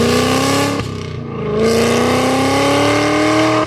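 A Cadillac CT5-V Blackwing fitted with a Stainless Works exhaust revs loudly and up close, its deep engine note rising in pitch, dipping briefly, then climbing again in a long, steady pull.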